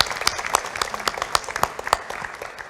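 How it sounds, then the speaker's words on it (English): Applause for teams at a conference closing session after their presentations: a steady wash of many hands clapping, with sharper individual claps standing out near and moderately loud throughout. "I'd like to give a round of applause to all of the teams for their hard work and fine presentations"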